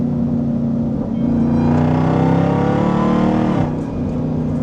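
A supercharged Jeep Grand Cherokee Trackhawk accelerates hard, heard from inside the cabin as a loud, continuous engine roar that climbs steadily in pitch, drops briefly at a shift, then surges again.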